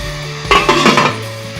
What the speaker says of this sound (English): Stick the lid on